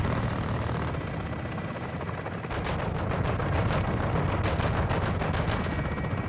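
Automatic gunfire and rapid shots ring out in a Call of Duty: Modern Warfare 2 (2022) base raid, loud and continuous over a low rumbling helicopter-like drone, with no voices.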